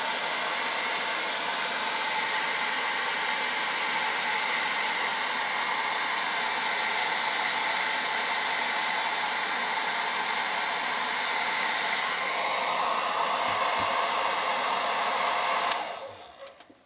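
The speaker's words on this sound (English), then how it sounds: "So I'm just going to use a hairdryer, just warm up the decal." A hairdryer blows steadily and close, warming a decal on an RC car body, a constant loud whoosh that cuts off abruptly near the end.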